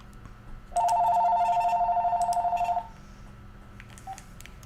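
A telephone rings in a locksmith shop during a live broadcast: one steady electronic ring tone of about two seconds, fairly quiet over low background hum, with no talk.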